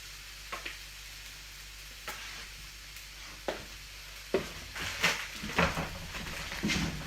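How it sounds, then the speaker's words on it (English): Vegetables fry in oil in a pan, soft sizzling broken by intermittent scraping and stirring clatters that grow busier and louder toward the end. "I'm going to move all my veggies to the back of the pan. Put a little touch more oil in."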